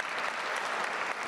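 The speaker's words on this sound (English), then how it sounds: "please give them a round of applause, AECOM folks" Audience at a transit agency state-of-the-agency event applauds AECOM staff seated in the front row, a short, even burst of clapping that sounds fairly distant.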